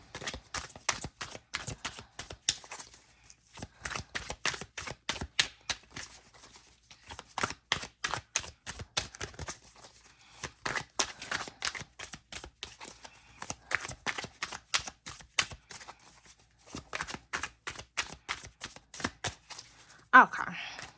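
A deck of tarot cards is shuffled repeatedly, giving quick close riffling and flicking bursts with brief pauses between, and a voice is heard faintly at moments.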